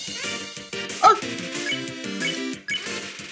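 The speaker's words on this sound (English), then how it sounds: "Far away, bark." Lesser Dog from the video game Undertale lets out short, yappy barks over a bright chiptune melody, with a sharp blip near the start and the music carrying on steadily.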